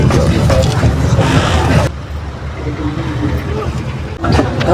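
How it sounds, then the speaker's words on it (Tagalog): A jeepney engine runs with a steady low rumble inside the moving vehicle, loud at first and then quieter, while people talk over it. "tumatakbo na ang jeep"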